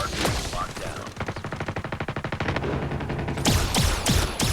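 J358 gun in the video game Call of Duty Mobile firing a rapid automatic burst of loud shots, followed by a few heavier impacts and crashes near the end.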